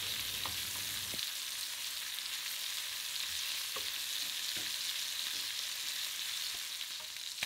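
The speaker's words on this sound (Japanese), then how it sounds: "あまり動かしすぎずに中火でじっくりと油を出しながらカリカリに焼いていきます。" Saddle of lamb searing over medium heat, rendering its fat as it crisps, with a fairly quiet, steady frying hiss and a few faint taps from the pan.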